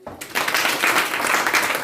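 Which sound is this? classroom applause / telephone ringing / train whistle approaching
classroom applause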